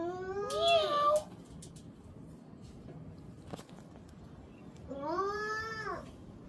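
A cat at an alpaca farm gives two clear, drawn-out meows close by, one at the start and another a few seconds later after a quiet pause with faint background noise.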